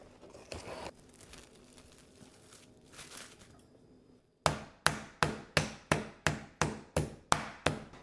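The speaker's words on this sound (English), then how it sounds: "I'm going to cover these pieces with plastic wrap before I pound it out." Steady, evenly paced thuds as thin pork slices covered in plastic wrap are pounded flat, about a dozen loud blows in quick rhythm after a stretch of crinkling wrap and handling noise.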